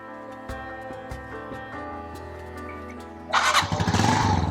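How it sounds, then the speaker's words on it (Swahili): A motorcycle with an unmodified exhaust idles with a low steady putter and a few clicks, then revs up loudly near the end, close and alone. "Umeona chombo hiko? Umeona mlio huo? Yaani exhaust haija tobolewa hapo."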